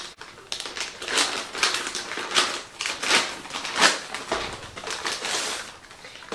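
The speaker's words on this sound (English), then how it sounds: "we perform hand hygiene and then we open up our package" Crinkling plastic wrapping of a medical catheter supply package being pulled open close by, in several short rustling bursts with brief pauses between them.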